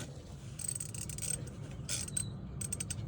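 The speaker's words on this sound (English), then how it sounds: "This one from underneath, that's a 19 millimeter. That's what I'm using. 19 millimeter socket." A ratchet turning a 19 mm socket on rear bumper bolts of a 1999-2006 Chevy pickup gives quick, faint ticking clicks in uneven bursts over a low background hum, with no voices.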